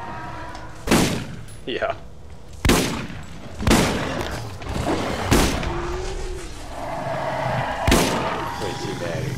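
Shotgun blasts in the video game Borderlands, five or six loud, sharp booms spaced about a second apart amid game effects, with someone talking between shots.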